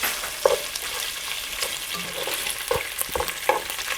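Kielbasa slices browning in a frying pan, a constant close sizzle with intermittent clicks and scrapes of a utensil turning the sausage, no speech.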